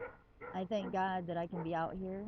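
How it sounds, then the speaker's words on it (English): An outdoor guard dog barks in short bursts, close by and partly covered by a person talking continuously over it. "You can probably hear my wonderful companion and guard dog barking"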